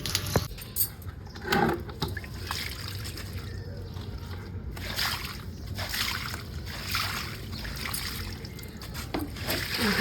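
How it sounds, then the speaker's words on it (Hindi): Water being poured onto potted plants outdoors, a continuous splashing trickle with brief clattering, and a voice talking faintly under it. "अब डालते हैं पौधों में पानी।"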